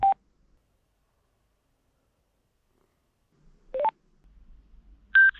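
A Cardo Packtalk Bold motorcycle intercom places a Bluetooth call to a Senna 30K unit, giving short electronic tones: a beep, a pair of rising chirps a few seconds later and a final tone, separated by near silence.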